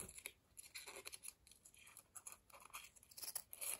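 Scissors snip through embroidered fabric for small stitched hearts, a quick close series of crisp cuts and scratchy rustles repeating irregularly, quiet and without talk.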